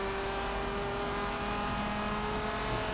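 A car accelerates hard down a race track's back straight toward about 150 mph, a steady loud engine drone with a rising whine, close and continuous, with no talking.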